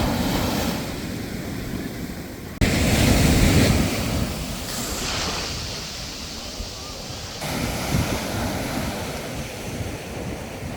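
Sea waves break and wash steadily along Kovalam Beach in Thiruvananthapuram, a broad continuous surf roar with a louder surge partway through and wind buffeting the microphone throughout.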